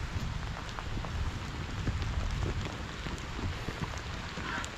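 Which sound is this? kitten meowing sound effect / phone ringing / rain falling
rain falling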